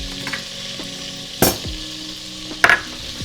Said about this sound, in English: in a large pot or Dutch oven, we are going to be melting some butter, and to this we are going to be adding some oil